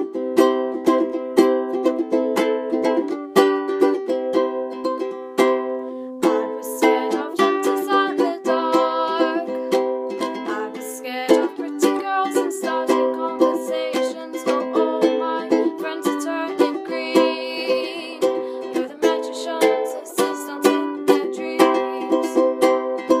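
Ukulele strumming the pre-chorus chords of a song, a bright, steady rhythmic strum played close and loud without any voice.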